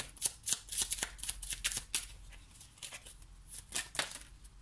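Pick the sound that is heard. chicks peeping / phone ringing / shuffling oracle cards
shuffling oracle cards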